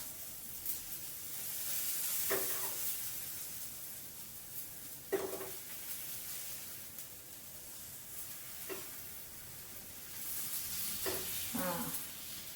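Roti frying in oil on a pan, a soft steady sizzle running throughout with a few brief scrapes and taps of a spatula, close but fairly quiet, no voices.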